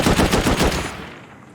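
A remote-controlled turret in Rust fires a fast burst of explosive rounds, close and loud, a rapid rattle of shots that stops and rings out into a fading tail.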